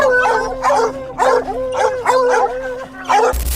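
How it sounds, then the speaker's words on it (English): Several dogs bark in a rapid, continuous volley close by, yelping and howling at a cornered cougar, with a sharp burst of noise at the very end. "the dogs barked nonstop just a short distance away"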